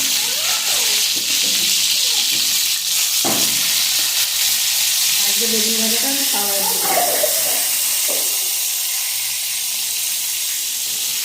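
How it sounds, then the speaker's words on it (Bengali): Salted eggplant pieces fry in oil on a tawa pan with a steady, loud hiss and crackle, while a voice talks intermittently over the sizzle. "তাওয়া বসিয়ে তেল দিয়ে দিয়েছি বেগুনগুলো একটু পিস পিস করে কেটে লবণগুলো মাখিয়ে নিয়েছি মধ্যে একটা করে বেগুনগুলো দিয়ে দেবো"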